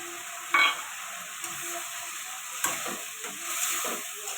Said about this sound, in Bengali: মশলার সাথে ভালো করে কষিয়ে নেব।